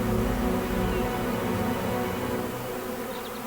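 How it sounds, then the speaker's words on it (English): A swarm of honeybees buzzes steadily and densely up close, a continuous droning hum with no voices over it. "Those familiar with the new home stop dancing, dive in between the bees' bodies, and make a very high-pitched sound with their thoracic muscles."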